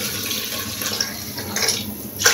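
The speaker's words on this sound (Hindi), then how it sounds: "मैं इसमें पानी ऐड कर रही हूँ" Water poured into a pressure cooker holding beef for chana dal gosht, a steady splashing pour running throughout with a brighter gush near the end, close by and with no talking.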